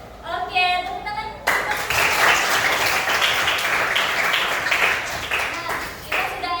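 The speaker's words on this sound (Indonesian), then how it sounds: "Oke, tepuk tangan." A classroom group clapping together after an ice-breaking game, a dense burst of hand claps from many people at close range lasting several seconds, with a voice speaking briefly before the clapping starts.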